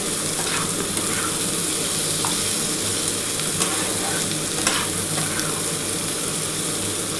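Spice masala frying hard with whole lote fish and potatoes for a jhal, a loud, dense, continuous sizzle with occasional stirring scrapes and no talk.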